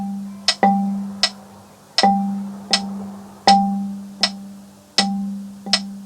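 Mallet percussion instrument struck in an uneven, deliberately exaggerated pattern between the two hands, with roughly a dozen bright notes ringing out alone, alternating louder and softer attacks in an irregular rhythm.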